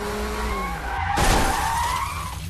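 Cars in a racing game, a blue car and a police car, skid with a loud, sweeping tire squeal over engine roar that swells midway and fades at the end.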